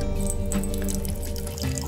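Water from a water dispenser pours steadily into a cooking preparation for sweet vermicelli, a continuous close trickle with light splashing that lasts the whole moment without speech.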